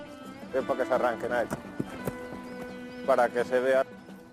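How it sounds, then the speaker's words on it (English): A Spanish horse performs a traditional jineta horsemanship display, its hooves clopping in short bursts with a couple of loud whinnies rising above the clatter. "When Javier Martin is not herding cattle, he gives displays of traditional Spanish horsemanship"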